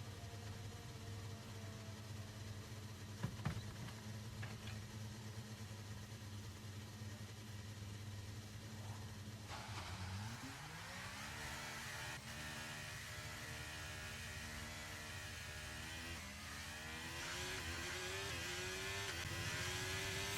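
An F1 car in the F1 23 racing game idles low and steady in the garage, then the engine pitch rises and climbs in revving sweeps as it pulls away, growing a little louder near the end.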